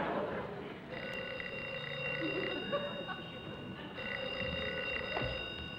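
A telephone rings on a 1955 live television panel game show, its bell tones repeating steadily over a busy studio background with faint voices.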